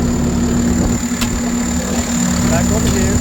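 A Case 850M dozer's diesel engine idles steadily nearby, giving a constant low hum with a strong steady tone and a high whine above it, while someone speaks briefly over it.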